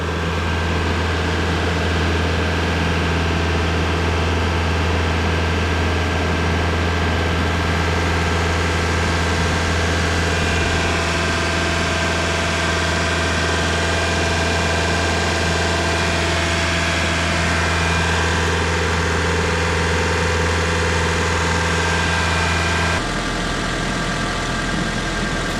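A 1999 Honda Civic engine idles steadily on its own for about 25 seconds, a loud constant low hum with mechanical vibration and no change in pace, stopping abruptly near the end.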